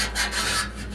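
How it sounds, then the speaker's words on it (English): Steel scribe scoring a line along car body sheet metal on a Triumph Stag rear wing, a continuous close scraping rasp that swells and fades in one stroke, with no talk. "take my scribe there, and then score down along there"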